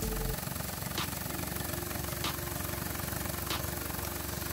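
A laser-cut steel-core pulse motor runs while driving a mechanical load, giving a continuous, even mechanical hum. Faint sharp ticks recur roughly every second over the hum.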